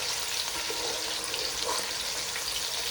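Oil fries in a pot for Nigerian Ofada stew, a continuous even sizzle and crackle at moderate loudness, close up and without speech.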